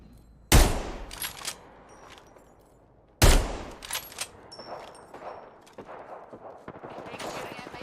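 Gunfire in Apex Legends, with two sharp, loud shots at the start and midway, each followed by a ringing tail, then lighter scattered shots and game effects under faint talk.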